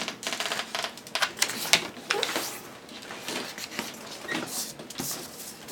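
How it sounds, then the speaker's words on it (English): A square sheet of origami paper folded diagonally in half, close crisp crinkles, taps and creasing rustles in irregular bursts, fairly quiet with no talk. "fold diagonally in half."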